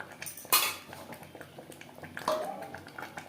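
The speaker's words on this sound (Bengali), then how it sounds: "মাটনের সাথে পেঁয়াজ রসুন বেশ ভালো করে মিক্স করে দেবো।" A spoon scraping and clinking against a pot while mutton with onion and garlic is stirred, two sharper metallic knocks standing out among soft, scattered scrapes, fairly quiet and close.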